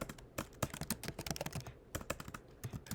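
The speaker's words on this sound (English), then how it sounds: "So I'm going to type that out." Quick, irregular clicks of typing on a computer keyboard sound close and fairly soft, coming in short flurries with brief pauses between them.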